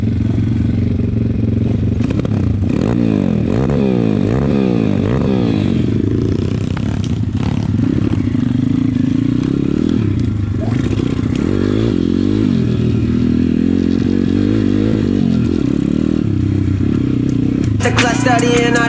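Pit bike motorcycle ridden through a forest: a loud, continuous engine drone that rises and falls as the rider revs and shifts, with clatter and scraping over rough ground, loud and close throughout.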